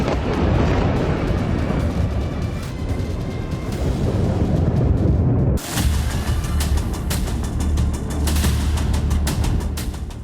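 Israeli bombardment of Hamas positions brings a sustained, loud, rumbling barrage of blasts, with a sharp cut midway into a further run of booming detonations and crackling bursts.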